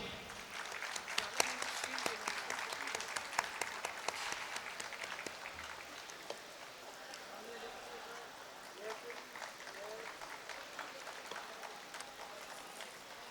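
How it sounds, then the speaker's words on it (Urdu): Applause at an alumni reunion welcoming Sir Asad Sethi to the stage: a crowd claps loudly at first, then the clapping thins and tapers, with voices and movement mixed in underneath. "آپ لوگوں کی بھرپور تالیوں میں سر اسد سیٹھی"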